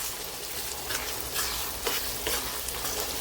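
Dried fish pieces frying in a pan crackle with a steady sizzle while a spatula scrapes and stirs them in several close, irregular sweeps, and no one speaks.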